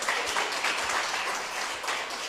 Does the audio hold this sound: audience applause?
yes